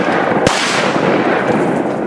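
One loud, sharp shotgun blast during a mallard duck hunt, followed by a fading rumble over constant outdoor noise, with no talking.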